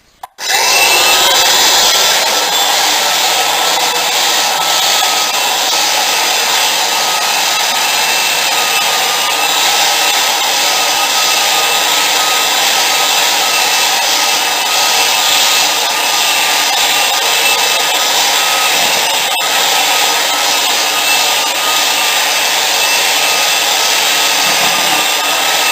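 A floor sanding edger machine runs continuously for the whole stretch, a loud steady motor whine with a grinding, rasping drone, alone with no talk.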